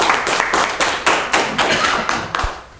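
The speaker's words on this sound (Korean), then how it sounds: "감사합니다. 박수 쳐주세요." A small gathering at a writing workshop claps in rhythmic, fairly close bursts, each strike sharp and distinct, the pattern steady across the clip before fading slightly.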